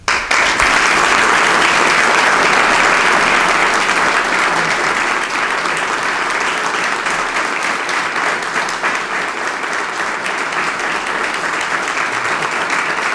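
Sustained, full applause from the audience at a book launch honoring the author, a dense, even roar of many hands clapping from start to finish without talk.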